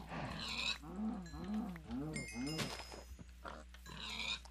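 Pig grunts and cow moos from Minecraft farm animals, a run of repeated oinks in quick succession with lowing calls, loud and close under a steady background hum while a voice talks over them.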